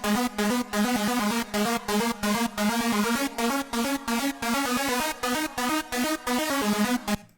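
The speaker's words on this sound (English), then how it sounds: "and this is the main lead, so we have a different synth for the drop." An unprocessed trance lead synth for a drop plays a steady, rapid pattern of bright three-note chords, loud and upfront with regular gated pulses and no voices.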